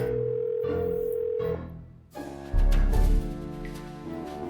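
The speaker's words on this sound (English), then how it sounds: "Okay, first let's call Tank." A steady telephone dial tone from a Nancy Drew detective video game plays for over a second, followed by dialing and ringing tones, loud and alone.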